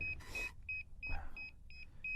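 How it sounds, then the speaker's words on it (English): Short, shrill repeating beeps from a syncing DJI Mini 2 drone sound in a car over a low engine hum, interrupted twice by bursts of rustling handling noise; no one speaks. "Alright, it's syncing. Sorry about the beeping."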